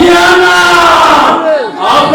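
An excited crowd at the Trophée de Poul Malebo music award shouts and cheers loudly with sustained voiced cries, briefly dipping before swelling again as the best song of 2018 is celebrated.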